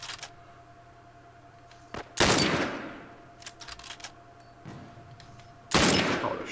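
Gunshots ring out in The Last of Us Remastered, two loud booming blasts with long echoing tails, separated by scattered smaller clicks and distant pops.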